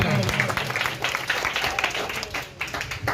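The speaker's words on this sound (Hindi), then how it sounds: "जोरदार तालियां एक बार हो जाए।" A crowd at a political gathering in Mau claps loudly in a sustained, dense burst, with voices audible through the applause.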